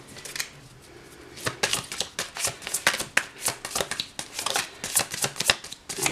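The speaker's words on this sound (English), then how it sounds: "She doesn't mean to shuffle the cards this way, but I kind of like to." Oracle cards are shuffled by hand in a quiet room, a rapid series of crisp riffling and slapping bursts that grow busier and louder after the first second, close up with no voices.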